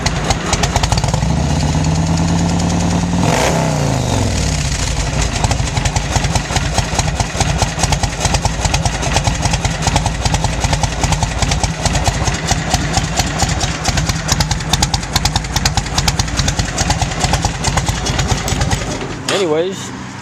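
A 2004 Yamaha Road Star 1700 motorcycle with Long Shot exhaust idles close by, a low, even, loping rumble that briefly revs near the start and holds steady for the rest.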